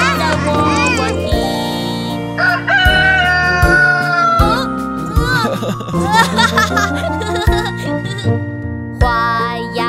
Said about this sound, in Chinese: 看一看小河边有一只小公鸡，它在喔喔啼。